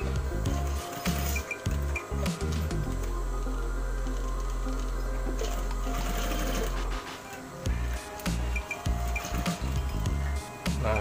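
A sewing machine runs continuously as it stitches a pocket, with a steady close mechanical rattle and hum that stops briefly before resuming, alone and without talk.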